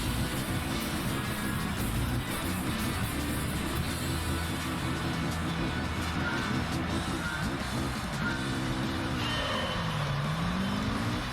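Racing engine of a Honda NSX in a video game, a steady loud drone throughout with pitch rising and falling, and a clear upward-sweeping rev near the end over game music.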